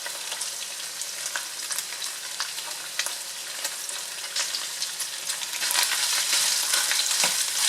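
Minced garlic and onion sautéing in a pan for an oriental-style pork spaghetti, a continuous close sizzle with scattered crackles and occasional stirring scrapes, growing slightly louder toward the end.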